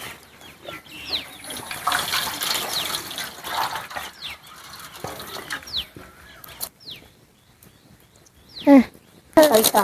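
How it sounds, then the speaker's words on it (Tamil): Rice being rinsed in water for a Tamil communal rice dish, with steady splashing and trickling liquid close by, a louder slosh near the end, while people talk over it. "அரிசி கழுவி எடுக்கலாம்"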